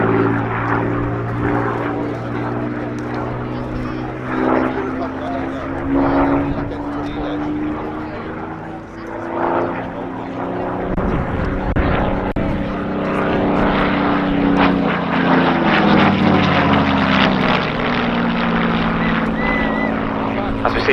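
Battle of Britain Memorial Flight propeller aircraft flying at the RAF Cosford Airshow, a loud sustained engine drone that rises and falls as the planes pass, with a commentator talking over it.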